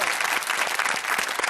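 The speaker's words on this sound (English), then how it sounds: "Big round of applause for leotards." Steady studio audience applause on a daytime word-game show, dense clapping filling the short stretch without talk.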